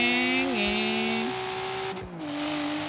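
A car engine in the video game Forza Horizon 3 hums steadily, its pitch shifting between gears as it revs and settles, with a brief dip and recovery near the end.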